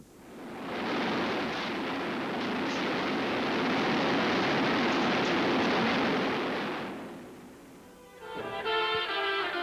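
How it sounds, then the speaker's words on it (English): Cannon on a Spectre gunship aircraft firing, a sustained loud roaring burst lasting several seconds that swells and fades, followed by a brief mechanical rattle. "and the gun will go off"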